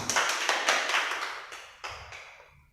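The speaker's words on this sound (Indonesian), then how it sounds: "Tepuk tangan buat semuanya" A vocational high school class applauds the presenting groups, giving a short burst of sparse, separate claps from a small room that thins out over about two and a half seconds.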